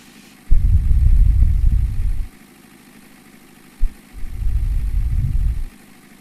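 A farm vehicle engine in Farming Simulator 19, said to have a rattling spring in the engine during heavy harrowing, revs in two loud rough bursts separated by a short sharp knock and brief silence.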